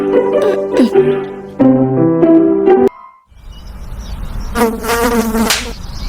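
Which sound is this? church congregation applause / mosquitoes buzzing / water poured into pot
mosquitoes buzzing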